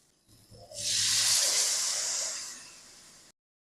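Water poured into a hot pan of spice-fried soybean chunks, pumpkin and potato sets off a sudden loud, close sizzling hiss that swells quickly, holds for about two seconds, then fades out.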